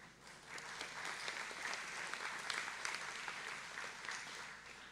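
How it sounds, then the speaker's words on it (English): A conference audience at Rust x Ethereum Day gives a speaker named Noam a warm round of applause, heard as a soft, dense, continuous patter of many hands at some distance. "Warm applause for Noam, please."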